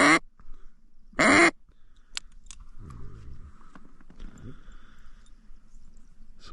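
Ducks, including drakes, quack close by near hunting decoys, with two loud harsh bursts early on followed by softer scattered calls and rustling in an otherwise quiet marsh.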